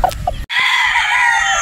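A Sweater bloodline gamecock rooster crows loudly and close, one long strained crow following a couple of brief clucks and a sharp cutoff.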